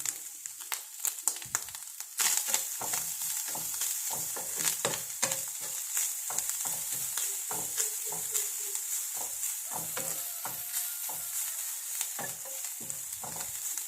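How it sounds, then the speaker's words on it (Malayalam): Grated coconut frying in ghee and being stirred steadily, a continuous close sizzle with repeated scraping strokes of the spoon throughout. "നല്ലപോലെ തേങ്ങയും ഫ്രൈ ആവണം"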